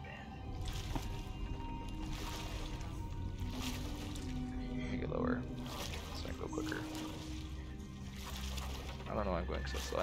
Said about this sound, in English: I can now swim back to the mainland with my water speed